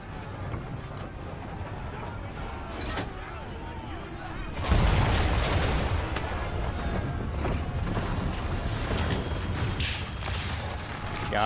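Ship cannon fire in a naval battle in Assassin's Creed III Remastered, a heavy booming blast midway over continuous creaking, sea and battle noise.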